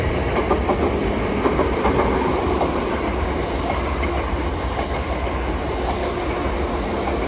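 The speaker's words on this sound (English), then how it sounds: "a South Eastern service passing to London Charing Cross" A Southeastern class 465 electric train passes through New Cross, its wheels giving a steady rhythmic clickety-clack over rail joints beneath a continuous loud rumble, with no talking.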